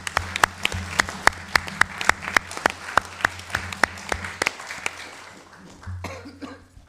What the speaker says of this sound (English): I just think we should give the RJ Foundation another big round of applause.